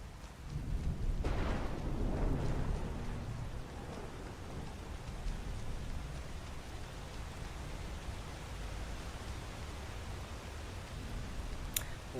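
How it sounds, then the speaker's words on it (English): Steady heavy rain pours through a thunderstorm in modded Skyrim, with a low rumble of thunder swelling early on and the downpour carrying on evenly to the end. "Love storm lightning. Great mod."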